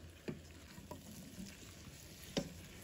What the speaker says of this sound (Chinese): 快速翻炒几下。